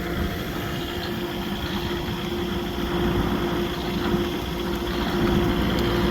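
A tractor engine runs steadily while driving a hay tedder, a constant close hum with a sustained tonal drone and mechanical clatter, no talking over it.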